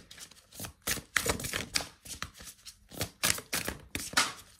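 Tarot cards shuffled and drawn close up: quick crisp riffling bursts in an irregular rhythm, moderately loud, with no voice over them.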